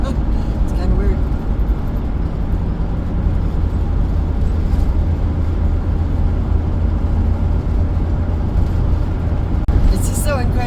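A car drives along a forest road through dense trees near the Rogue River in Oregon's Siskiyou National Forest, giving a loud, steady interior rumble of engine and tyre noise throughout.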